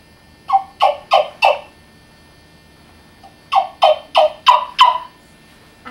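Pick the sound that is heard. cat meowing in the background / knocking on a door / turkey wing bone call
turkey wing bone call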